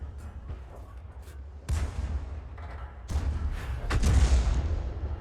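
Artillery shell impacts on a building in World of Tanks, several heavy booming thuds with crumbling debris, the last hit loudest and nearest.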